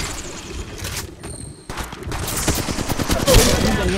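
Gunfire in the mobile battle royale game Apex Legends Mobile: loud rapid bursts of shots, a brief lull, then denser sustained firing with booming impacts.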